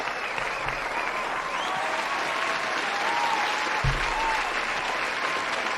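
A comedy show audience applauds and cheers steadily, a loud sustained wash of clapping with crowd noise throughout, heard up close.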